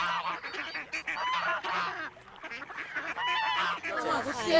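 A flock of domestic ducks kept by a community group in Nyalenda calls constantly nearby, with honking, goose-like quacks overlapping at an irregular rhythm. Some faint background voices may be mixed in.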